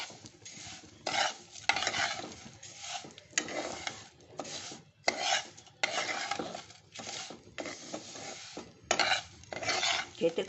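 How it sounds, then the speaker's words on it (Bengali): Vermicelli (semai) stirred and scraped in ghee in a metal pan for zarda semai, with repeated rhythmic bursts of spatula scraping and faint sizzling, close and fairly loud, no voices. "আমি একবার এই সেমাইটা ঢেলে দিচ্ছি। আর একটু ঘি দিয়ে দিলাম"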